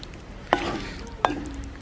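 Fish pieces are stirred into a Kerala-style fish pickle in a pan, giving a soft sizzle with two sharp spoon knocks against the pan, close and without voices.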